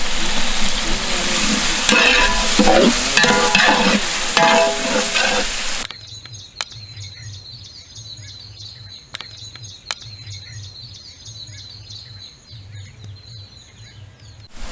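Onions sauté in a pan for a duck biryani, sizzling loudly with scraping stir strokes for several seconds before the noise drops to a quieter background with faint chirps and occasional clicks.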